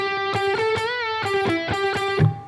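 Distorted electric guitar plays a solo lick, with sharply picked notes, a held vibrato bend near the middle and clipped repeated stabs, loud and alone.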